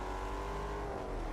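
A race car engine in the video game Test Drive Unlimited Solar Crown, during a live event set on Ibiza, holds a steady, loud, buzzing drone through the whole short stretch.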